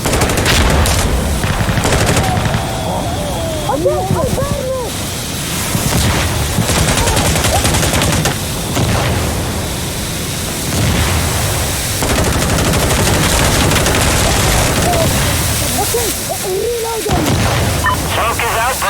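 An Insurgency Sandstorm artillery barrage mixed with dense gunfire, loud continuous rattling bursts and booming impacts, with radio-style voices talking over the battle.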